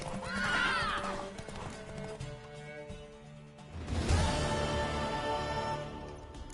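In The Witcher 3: Wild Hunt video game, a horse whinnies loudly, then hooves clip-clop as another neigh rises over a bed of music.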